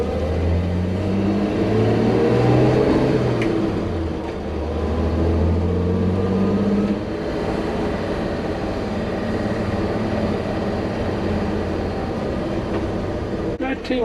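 An old 1955 Chevy truck with recently corrected steering drives along a main road, its engine droning and shifting pitch as it accelerates, with someone talking over it.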